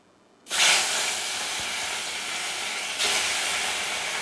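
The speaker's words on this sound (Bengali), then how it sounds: "কড়াইতে আমার তেল দিয়ে দিয়েছি, তেল গরম হয়ে গেছে। এবার মাছগুলোকে হালকা করে ভেজে নেব।" Hot oil erupts into a loud, steady hissing sizzle as hilsa fish go into the wok after a moment of quiet, then flares up louder again a few seconds later.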